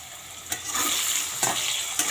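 Oil splatters and sizzles steadily in a pan where chicken is being cooked, with a few sharper crackling bursts popping out at intervals, close and fairly loud, no voices.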